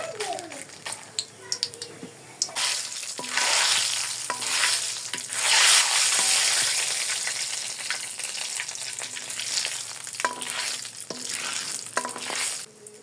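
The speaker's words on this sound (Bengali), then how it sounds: "দেখুন মরিচগুলো ভাজা ভাজা হয়ে গেছে" Dry red chillies, bay leaves and panch phoron crackle and sizzle in hot mustard oil, a loud close frying hiss that swells mid-way, with stirring scrapes and brief voices around it.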